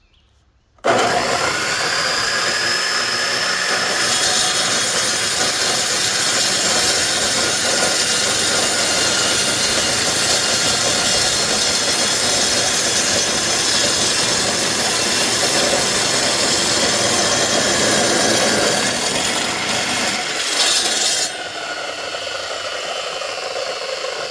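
A DeWalt chop saw starts abruptly and holds a loud, continuous high whine while its blade grinds steadily through material, then the pitch drops and the motor winds down near the end.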